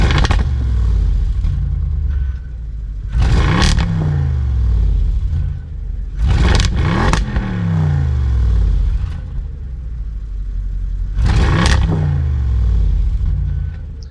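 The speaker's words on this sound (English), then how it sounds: "here's a little sound clip of how the exhaust sounds on this car" A 2014 Audi RS7 V8 revs repeatedly, with loud exhaust blips and bursts rising above a rumbling idle, three or four sharp pulls spaced apart, heard close up.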